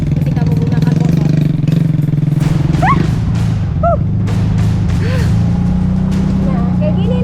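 Motorcycle engine droning steadily and close throughout on an unpaved rural road in Lepanggeng, with birds chirping faintly above and a few scattered clicks and knocks.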